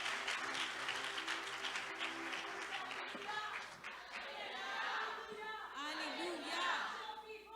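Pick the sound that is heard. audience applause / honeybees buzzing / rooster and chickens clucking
audience applause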